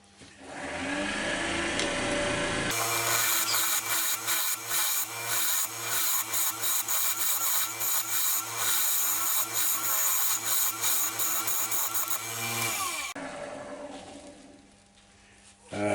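A woodturning tool with an Ellsworth grind hollows a natural edge ash bowl on a lathe, giving a loud, continuous scraping and cutting roar with a rapid rhythmic pulse that runs for about ten seconds before it stops.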